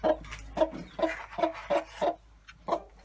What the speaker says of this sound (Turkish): Bunlar da Susex'ten normal kırma tavuklarımız.